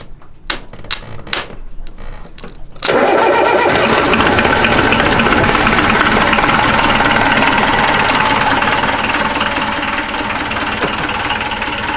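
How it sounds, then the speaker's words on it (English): A yacht motor under restoration is cranked over in a few short bursts, then catches and runs, settling into a loud, steady clattering idle close by. "The motor's going."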